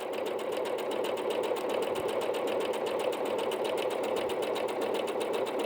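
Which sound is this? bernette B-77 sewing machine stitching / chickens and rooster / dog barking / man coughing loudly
bernette B-77 sewing machine stitching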